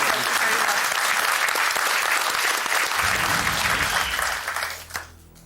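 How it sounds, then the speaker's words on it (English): A studio audience on a Deal or No Deal UK game show breaks into loud, sustained cheering and applause of relief, which fades out near the end. "that's a real cheer of relief"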